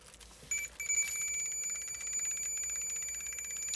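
A Ukrainian IPA.01 radioactivity indicator held near a strontium-90 source gives off a dense run of rapid electronic ticks and clicks with a steady high beeping tone, fairly close and alone.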